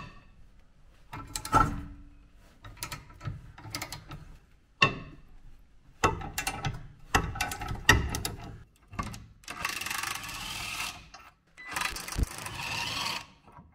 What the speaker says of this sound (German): Und dazu gehen wir hier mit einer 21er Stecknuss drauf und lösen uns erstmal hier den Sattelhalter.